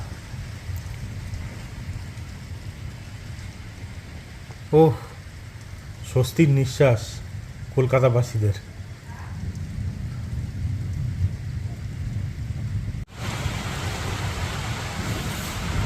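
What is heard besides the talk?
rain falling with thunder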